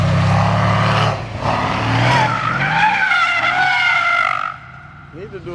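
Tires on a car in sport plus mode squeal loudly during a brake stand at a car meet, a sustained screeching whine over engine roar that cuts off sharply near the end, with people talking over it.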